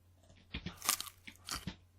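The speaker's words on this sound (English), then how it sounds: "That's just like a celery piece breaking there." A carrot is eaten and a celery piece breaks, giving several close, crisp crunching bites in quick succession, with no talking.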